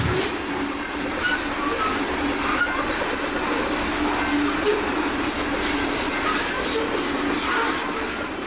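A CSX freight train hauling covered phosphate hopper cars rolls steadily past on the Bone Valley line, a loud continuous rumble with wheel noise and faint squeal throughout.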